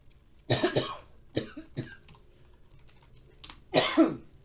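Several sharp, close coughs and throat clears from one person indoors, in short separate bursts with quiet pauses between, faint keyboard clicks in the background.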